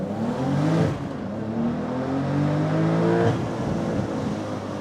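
A manual 600 hp Porsche 911 992 GTS launches and accelerates hard, its engine note climbing through the revs, with two clear gear changes cutting the pull before it rises again.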